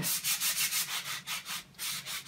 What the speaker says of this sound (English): So I'll just sand that side off and use this side.